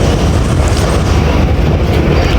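Passenger train rolling out of Kundian Junction on the ML-2 line, a loud, steady rumble of wheels and carriage noise heard from onboard, with no talking.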